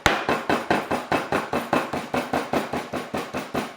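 Metal meat tenderizer hammering pork chops on a board for Cantonese sweet and sour pork, about fifteen close, loud, evenly spaced blows in a steady rhythm with no talk.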